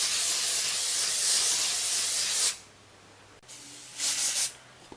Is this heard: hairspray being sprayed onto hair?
yes